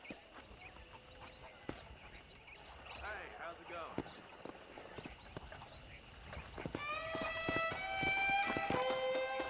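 Horse hooves clip-clop in the Red Dead Redemption video game during a horse-wrangling scene, with whinnies and game ambience, growing louder and busier toward the end alongside a bright musical score.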